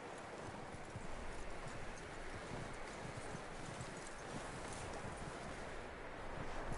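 A horse's hooves clip-clop steadily in Red Dead Redemption 2, a continuous loose trotting rhythm, set against a roaring bed of wind and rustling with no voices.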